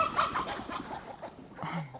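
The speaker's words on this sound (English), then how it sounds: "Chickens saw something, they got excited." Chickens clucking excitedly near an Ironman Chattanooga bike course, a busy run of short calls throughout, fairly faint against outdoor background noise.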